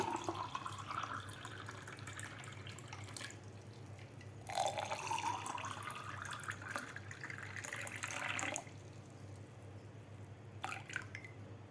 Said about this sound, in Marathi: थंडगार माठातलं पाणी.